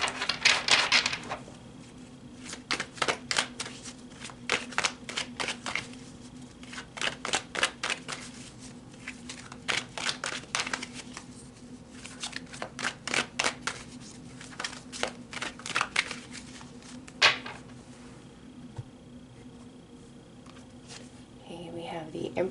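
Tarot cards being shuffled by hand: repeated crisp riffling and flicking bursts in clusters across a long stretch, close and fairly quiet, with a steady low hum behind.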